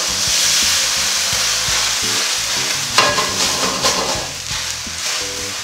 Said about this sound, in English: We need to deglaze the pan. We're gonna use, you know, cognac or brandy.